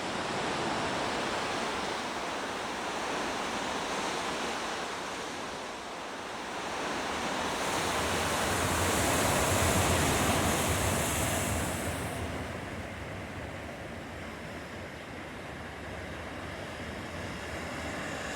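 Ocean waves roar in along the Oregon coast near a rocky tunnel opening, a continuous loud broadband surge that swells midway as a bigger wave crashes and splashes, then eases into steady surf with no voices.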